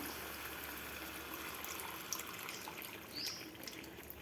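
Tamarind water poured into a pan for Andhra-style fish curry with okra pieces, a soft steady liquid trickle running throughout, fairly faint and without talk.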